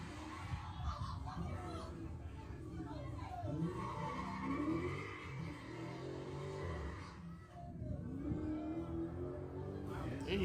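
An old-school Ford Mustang drives off at a car meet, its engine revving and tires squealing amid a crowd, heard under steady overlapping talk.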